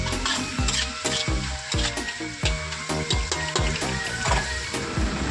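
Shredded cabbage and carrot are stir-fried in oil over high heat in a street-style wok for veg chow mein, with a steady loud sizzle broken by rhythmic clanks and scrapes of the spatula.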